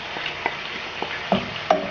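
Tomatoes and spices fry in a pan with a soft steady sizzle, broken by a few light scraping stirs and clinks of a utensil against the pan.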